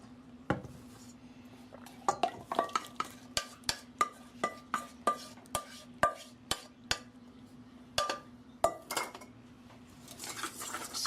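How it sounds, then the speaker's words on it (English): A whisk clinks and taps against a bowl in a steady run of sharp strikes while wet ingredients are blended into dry ones for a gluten-free honey pear bread with cranberries, with a low steady hum underneath. "Whisk this together just until it's blended."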